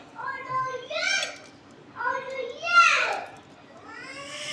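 Pet cats meow several times in quick succession, with rising and falling calls close by, in a home kitchen.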